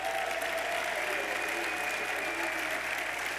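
An audience claps steadily and loudly at a New York City mayor's State of the City address, a dense continuous applause filling the hall with no speech over it.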